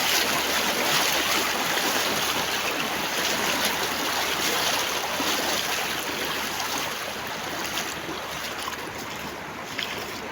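Strong stream current rushes loudly and continuously, a dense broadband wash of flowing water close by with no breaks across the whole stretch.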